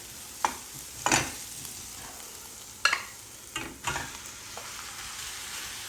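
Ground veal and pork hit a hot pan with sudden loud sizzles, followed by a few sharp stirring scrapes over a quiet frying hiss, close and without speech.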